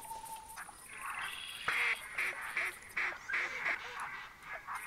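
Duck calls in the hunting game theHunter Classic, set in a bayou, come as a run of short nasal honks and quacks after a steady tone, under a light background hiss.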